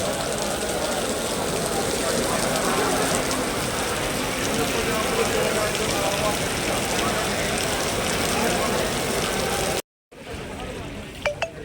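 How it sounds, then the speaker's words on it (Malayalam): Heavy rain pours steadily at a fishing harbour in a dense, unbroken hiss that drops out briefly near the end, then returns more lightly with a few drips. "നല്ല മഴയാണ് കേട്ടോ, നല്ല ടോപ്പ് മഴ"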